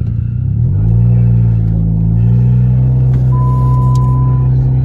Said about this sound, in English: We'll go ahead and throw it in drive.